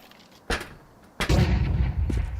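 SMG gunfire in a Counter-Strike 2 match rings out as two sharp bursts, a short one then a longer sustained spray, loud and close with no speech over it.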